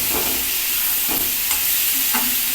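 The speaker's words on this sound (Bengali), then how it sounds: "আর এটাকে একটু ভালো করে কষিয়ে নিচ্ছি যাতে যে সবজিগুলো দেওয়া হয়েছে" Vegetables frying in a generous amount of oil for a Bengali fish curry, stirred repeatedly: constant close sizzling with several distinct spatula scrapes, no talking.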